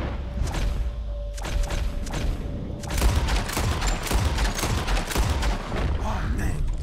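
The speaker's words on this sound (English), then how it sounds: "You shoot four birds out of the sky before me, you win." Rapid volleys of gunfire in Red Dead Redemption as players shoot birds out of the sky, dense overlapping shots continuing for several seconds after a quieter opening, loud and close.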